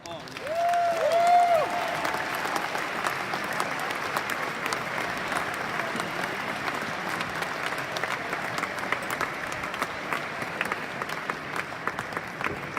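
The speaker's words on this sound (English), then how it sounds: "Big applause for our CEO." A conference audience applauds the CEO with sustained, even clapping that fills the room, while a tonal musical sting and a voice sound briefly near the start; the crowd keeps clapping steadily to the end.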